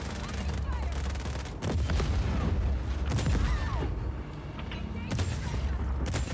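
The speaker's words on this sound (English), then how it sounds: "Explosion as well." Explosions and bursts of gunfire from a tank battle in the video game Just Cause 4, loud and dense, with repeated sharp blasts and booms layered through the whole stretch.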